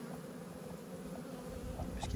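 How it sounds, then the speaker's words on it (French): Honeybees buzz around a hive in a low, steady drone, faint and continuous through the short stretch. "Les abeilles vont de toute façon rentrer."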